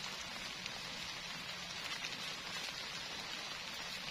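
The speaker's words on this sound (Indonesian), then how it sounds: "Ya, nambah terus hujannya." Heavy rain drums steadily on a leaking tent during a solo overnight camp in strong wind, a dense continuous patter with no voices.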